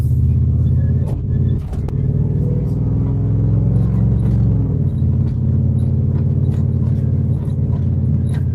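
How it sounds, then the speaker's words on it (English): A truck with weird noises at the front rumbles loud and steady from inside the cab as it drives. There are occasional knocks and rattles, and the engine note shifts partway through. "My truck's making a lot of really weird noises in the front."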